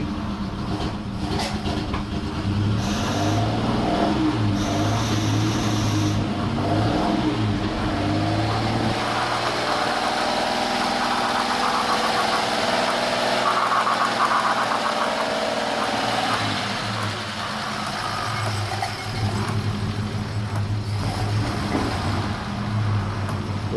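A classic car engine idles and runs steadily for a long stretch, a loud, close, rough mechanical rumble with a slight rhythmic knock and some revving near the start.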